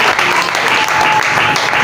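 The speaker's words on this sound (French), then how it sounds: "J'aimerais que tu acclames pour la gloire de Dieu." Church congregation applauding together at a religious service, a dense, steady wash of clapping from many hands that fills the room throughout, with some voices mixed in.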